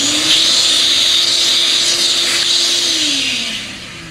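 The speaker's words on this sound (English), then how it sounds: "I'll stop it there, and I'll vacuum this up." A vacuum cleaner runs steadily and loud, sucking up drilling debris, with a constant broad whoosh and a hum that dips slightly in pitch before the sound tapers off near the end.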